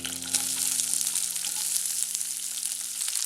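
Ginger, garlic, green chilli and onion frying in hot oil in a pan for matar paneer masala, giving a steady, close crackling sizzle with a soft hiss throughout and no voices.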